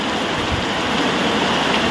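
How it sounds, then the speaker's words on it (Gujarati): Heavy rain pours down in a village, a loud, dense, unbroken rush of water close by with no pauses or voices. "હવે હવે હે ને વરસાદ વધતો જાય છે."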